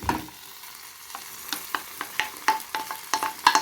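Tomatoes fry in a pot for okra stew, with a soft background sizzle broken by repeated sharp spoon taps and scrapes that get louder toward the end.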